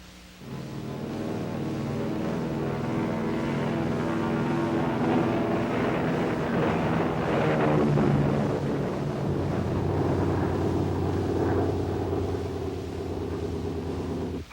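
A Bell X-2 carried on a B-50 bomber taking off, a loud continuous multi-engine propeller drone that holds steady throughout, with low rumble and shifting engine tones.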